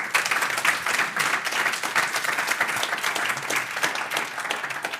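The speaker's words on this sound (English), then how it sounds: "Now I want to hear a big applause for Eric Vetter" Audience in a conference room applauds a speaker at a FHIR talk, dense sustained clapping filling the room at an even level without speech.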